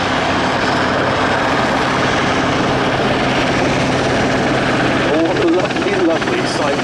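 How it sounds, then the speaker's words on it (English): A Westland Wessex HU5 and a Sea King helicopter from the disbanded Royal Navy Historic Flight in a flying display, heard as a loud, steady, continuous rotor and engine roar throughout, with a brief whistling tone near the end. "Helicopters, the Westland Wessex HU5 and Sea-King"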